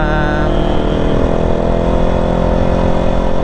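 A motorcycle engine runs steadily and close by, a constant harmonic drone with a low throbbing idle pulse and no voices.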